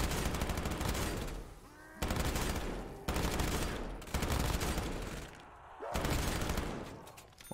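Repeated bursts of rapid automatic gunfire in a Black Ops 3 zombies map, each burst loud and sustained for about a second before short pauses, five bursts in all.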